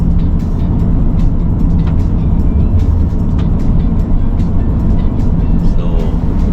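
Inside a 2025 Denza D9 electric MPV cruising a secondary highway toward Malacca, a steady low road and tyre rumble fills the cabin at an even, constant level throughout.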